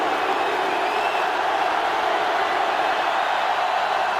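Stadium crowd noise from the NCAA Football 2005 game on GameCube fills the whole stretch as a steady, loud roar with no breaks.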